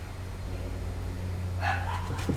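A dog barks and yips a few times near the end, close by, over a steady low hum.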